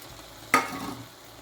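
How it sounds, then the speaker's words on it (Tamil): Boiled, mashed potatoes stirred into oily frying masala in a pan for aloo sabzi, a single sudden scrape and sizzle that quickly fades into a soft crackle, close by with no talking. "சேர்த்துட்டு இந்த மசாலாவோட நல்லா கிளறி கொடுங்க."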